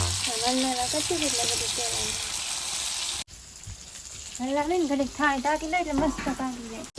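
Stuffed okra (bhinda) frying in oil and being stirred gently, a steady sizzle with soft scraping, while someone talks over it throughout.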